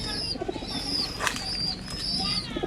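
A young pigeon at a loft trapdoor gives soft throaty coos, mixed with a brief burst of wing flapping, close by.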